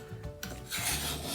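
A knife blade is dragged across a metal sharpener, producing a soft rasp and then a long, bright, grinding scrape that fills the rest of the moment, close up with no voices.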